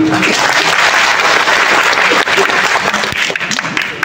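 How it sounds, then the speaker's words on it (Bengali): An audience at a public forum claps loudly in sustained, dense applause that gradually thins and tapers toward the end. "তার জন্য সবাই জোরে একটা হাততালি।"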